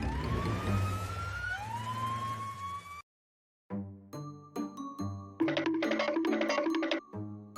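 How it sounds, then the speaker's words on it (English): A loud wailing siren sweeps upward from a toy-like ambulance on a football field, then after a short silence gives way to a series of bright, chiming electronic tones. "and this is the ambulance."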